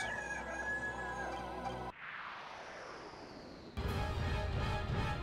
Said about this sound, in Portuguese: Eles realmente são galos, eles são roosters, né?